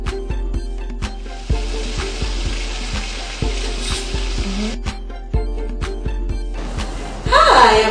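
Shrimp frying in a pan with curry chicken, a constant loud sizzle with repeated soft drop and stir knocks, music playing underneath, and a burst of fresh spattering near the end.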